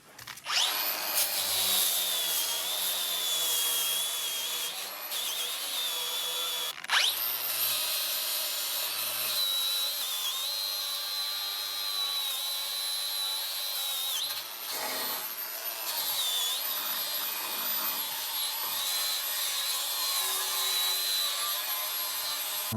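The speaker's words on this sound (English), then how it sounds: "I'm going to dig in here a little bit and just play with that wire wheel for a little bit." A wire wheel grinds and scrubs against VW Beetle chassis parts during stripping, giving a loud, harsh, continuous whir that stops briefly a few times before biting back in.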